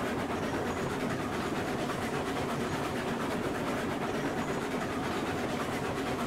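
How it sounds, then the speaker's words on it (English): Train in the Railroads Online video game running steadily on its rails through a turn, a continuous rumbling roll with faint clickety-clack, alone and fairly loud throughout. "I want to be able to make sure that our train's coming around the turn."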